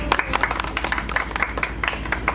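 A group on a site tour gives a short round of applause, a brief burst of close, lively hand clapping from several people.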